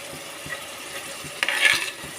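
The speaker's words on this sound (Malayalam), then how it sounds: "നല്ലതായിട്ടൊന്ന് ഇളക്കി കൊടുക്കുക." Sliced onions and green chillies frying in a pan for fish curry are stirred, giving a steady close sizzle with scraping strokes, and a louder burst of frying near the end.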